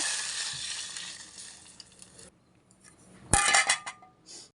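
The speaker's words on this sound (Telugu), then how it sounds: "చారు తాలింపుకి అయితే అన్ని రెడీ చేసి తాలింపు అయితే వేసేస్తున్నాను" Tempering for rasam dropped into hot oil in a pan, a bright crackling sizzle that fades over two seconds, then a sharp metallic clink and a fresh burst of loud spluttering close by.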